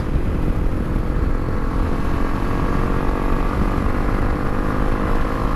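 Honda CRF300L motorcycle engine accelerating, a steady, loud broadband drone that holds throughout with no clear rise in pitch, heard without any talking.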